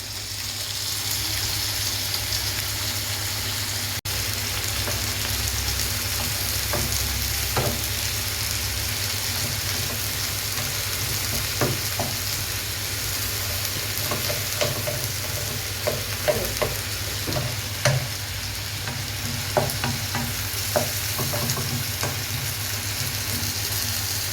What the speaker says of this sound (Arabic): بعدين هننزل بالبصل المتبل بالملح والفلفل والكمون